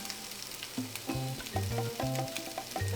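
Onions and peppers sizzle in olive oil in a hot pan for vegetarian fajitas, a close crackling hiss with irregular pops and soft clinks throughout.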